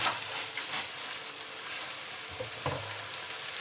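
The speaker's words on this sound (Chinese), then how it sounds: "接下来咱们把这个做好的饼啊，给它下锅里面去烙。" An oat flour flatbread sizzles in a preheated pan, a continuous close frying crackle with a soft knock near the end and no voices.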